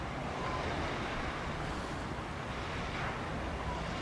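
Sea waves washing onto the beach at Lyubimovka, a steady broad rushing surf mixed with wind buffeting the microphone, constant and fairly loud with no voices.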